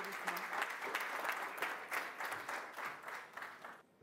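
Conference audience applause, a dense steady patter of many hands clapping in a hall, moderately distant and fading out at the very end.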